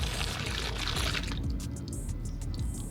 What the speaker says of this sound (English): fill up your water here.